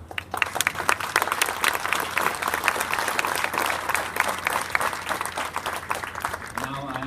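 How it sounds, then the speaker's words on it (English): An outdoor crowd at a world series opening ceremony in Texas claps steadily, sharp individual claps standing out, with voices murmuring and talking underneath. "Give them a big round of applause"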